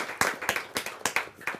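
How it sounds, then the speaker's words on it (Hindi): Scattered clapping from an audience at a Hindi poetry gathering (kavi sammelan) welcoming a guest, a few hands beating in a quick, uneven rhythm for under two seconds. "जोरदार ताली के साथ हम उनका स्वागत करें।"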